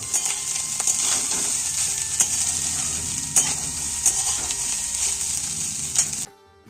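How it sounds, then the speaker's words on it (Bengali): Potatoes, onion, peas and chopped chili fry in a pan for fried rice, giving a steady sizzle with occasional stirring clinks of utensil on metal, fairly close, before stopping abruptly near the end. "আমি সব কিছু একদম ভেজে নিচ্ছি আলু পেঁয়াজ তারপরে একটু মটর দিয়েছি"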